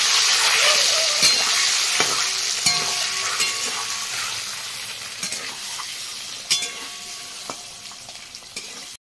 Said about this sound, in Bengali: আর এই যে হলুদ দিয়ে দিলাম, দিয়ে ভালো করে ডিমগুলো ভেজে নেব।